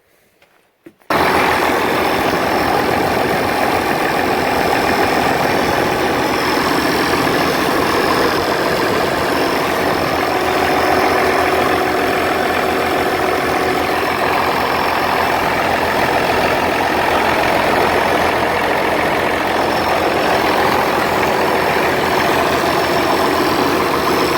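A truck engine, checked for a leak while loading food-grade organic soybeans, turns over and fires, then idles at a loud, steady, continuous rumble close by for the rest of the stretch.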